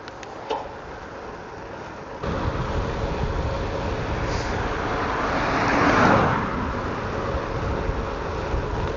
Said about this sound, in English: Lots of traffic today.